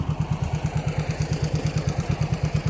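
A small tractor engine idles steadily close by, with a rapid, even chugging pulse and a low rumble that holds constant throughout.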